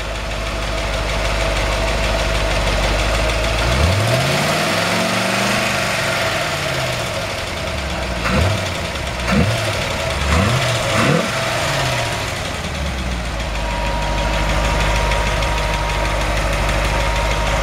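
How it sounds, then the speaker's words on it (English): A car engine with a freshly rebuilt exhaust idles steadily and loud with no talk, its note dipping and swelling through several short revs in the middle before settling back to a smooth idle. "great sounding exhaust"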